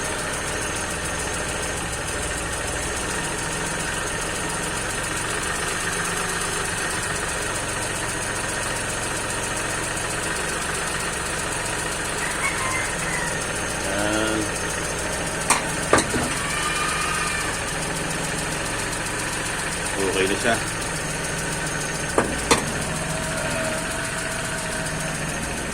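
A Suzuki F6A car engine idles after a top overhaul with a freshly overhauled carburetor, a steady, even hum that runs close and continuous, with a few sharp clicks and a brief spoken remark partway through.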